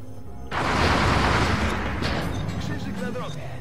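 In the video game XCOM: Enemy Within, a sudden loud explosion bursts out and rumbles on, fading slowly into a noisy roar.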